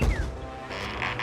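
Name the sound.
door unlocking in video game Two Worlds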